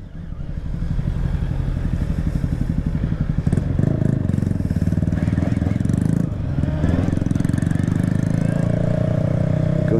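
A 2024 Honda CB650R motorcycle engine runs loud and close throughout a ride, its steady rumble rising in revs partway through with clattering mechanical noise over a continuous drone.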